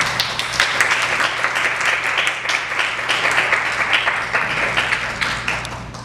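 A church congregation applauds to welcome a pastor to the pulpit, with dense, steady clapping that keeps going and fades slightly near the end.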